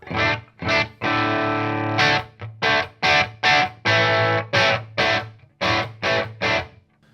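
Low-gain electric guitar through a Universal Audio ANTI amp simulator, with a mild, crunchy tone, playing sustained chords and short choppy strums in an uneven rhythm, close and fairly loud, no voices.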